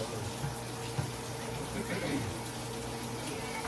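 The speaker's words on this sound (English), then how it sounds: "I'll rinse it off." Tap water runs steadily into a kitchen sink while something is rinsed under it after making shepherd's pie, a close, continuous splashing flow with brief clunks and faint voices in the background.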